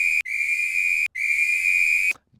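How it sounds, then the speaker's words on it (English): Three shrill whistle blasts from a Backyard Ultra running race, each a sustained steady tone: a very short first blast, then two long ones of nearly a second each with brief gaps between, loud and close. "cue the 3 whistles."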